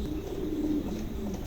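A pair of white King pigeons coo softly and continuously, a low murmuring purr held at close range for a brief moment with no talking.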